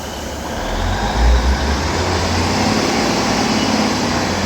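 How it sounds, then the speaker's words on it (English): Northern class 156 diesel train departing Blackburn station, a loud low rumbling engine drone with a steady wash of noise, swelling slightly as it pulls away. "Now departing is going to be 156-406 with the 11:51 Northern service to Cone."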